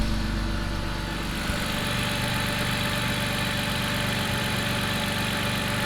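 BMW E46 330i engine idling steadily in a garage after a Vanos rebuild and valve cover gasket replacement, a continuous close rumble alongside the constant whir of a fan.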